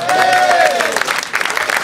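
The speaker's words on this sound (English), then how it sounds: "A big round of applause." Audience applause at an induction presentation ceremony, a dense, loud burst of clapping from a crowd with a voice briefly heard over it near the start.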